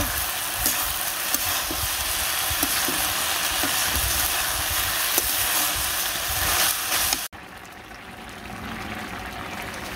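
A vegetarian vegetable curry sizzles and is stirred in a pan, a loud, close frying hiss with scraping strokes that stops abruptly near the end, leaving a quieter low simmer.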